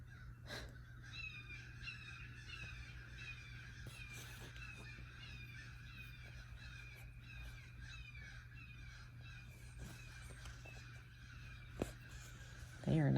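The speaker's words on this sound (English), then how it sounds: "Oh, that's a hawk being chased by a bunch of crows." A flock of crows chasing a hawk caws again and again, the calls faint and distant, over a low steady background hum.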